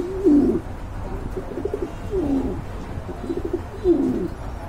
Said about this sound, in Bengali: এখানে এক জোড়া মুন্ডিয়ান কবুতর রয়েছে